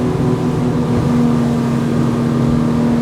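The engines of a Back Cove 34O motorboat under way drone steadily, a constant low hum with a tonal whine and continuous wash, loud and unbroken for three seconds with no talking.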